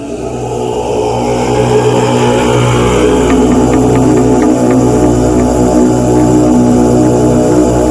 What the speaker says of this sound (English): Chevy Tahoe with a Vortec engine.